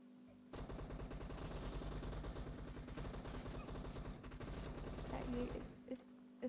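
Sniper gunfire in the mobile battle-royale game PUBG Mobile: a dense, continuous barrage of loud shots and impacts that runs for several seconds, with a few brief bursts near the end.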